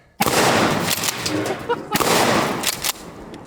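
A Mossberg 590 Shockwave 12 gauge shotgun fires outdoors at a trash can, two loud, heavy blasts about two seconds apart, each with a long rumbling echo.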